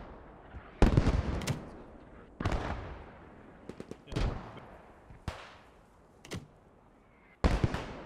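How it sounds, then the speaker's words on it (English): Grenades explode in the Post Scriptum video game: about half a dozen sharp blasts with rumbling tails, spaced a second or two apart and separated by quieter gaps of distant battle noise. "His grenade just fell inches short."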